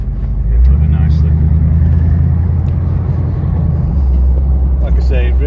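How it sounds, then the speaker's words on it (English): A car on a test run rolls over speed bumps, a loud close low rumble of engine and road with a thud or two from the suspension, while someone talks over it. "we're going to give it a little run out, so here we go. See how it copes with the speed bumps."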